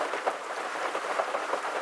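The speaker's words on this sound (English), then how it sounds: "But rain's dying down, as is the wind." Steady rain hisses outdoors by a back porch, a continuous, fairly close wash of drops with wind mixed in and no talk.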